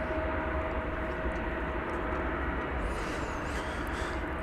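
A 23-year-old United Airlines Airbus A320-family jet at DFW Airport gives off a steady, broad engine roar with a faint whine, continuous and moderately distant, with a brief high swishing sweep near the end.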